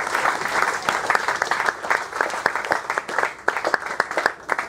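A round of applause from a group gathered at a BTCC racing owners club event at Oulton Park; dense, lively clapping from many hands, loud and close, continuing steadily throughout.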